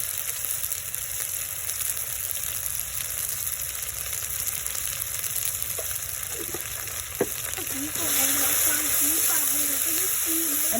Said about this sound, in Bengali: আমি সবগুলো মশলা ভালো করে কষিয়ে নিয়েছি